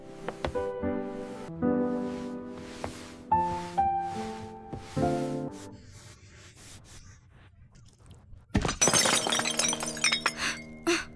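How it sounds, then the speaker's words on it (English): A vase falls and shatters, with a run of ringing clinks and glassy knocks before a sudden loud crash of breaking pieces near the end, close by and with no voices. "The vase is broken!"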